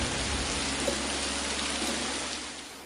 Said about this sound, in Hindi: सावन का महीना और घनघोर बारिश